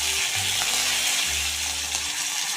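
Curry leaves and mustard seeds crackle in hot oil as a dense, steady hiss of sizzling, loud and close throughout the short stretch, with no talking.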